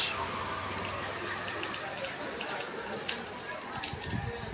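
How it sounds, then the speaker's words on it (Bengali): Steady, soft patter of light drizzle under a cloudy sky, a fine continuous hiss with scattered drops, faint voices underneath. "ঝিরি ঝিরি বৃষ্টি হচ্ছে 2 দিন যাবৎ, মেঘাচ্ছন্ন আকাশ"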